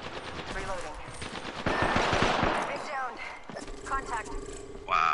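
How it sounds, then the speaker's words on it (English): Gunfire in Apex Legends during a ranked match, a player taking incoming shots near the closing ring: a dense, chattering burst of rapid shots that swells mid-clip, with other game sounds and talk around it. "Getting shot at."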